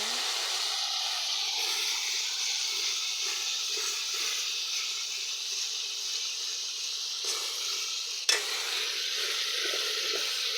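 Spice masala for a mud-fish curry sautéing in a pan, giving a steady broadband sizzle throughout with a brief clink near the end, no voices.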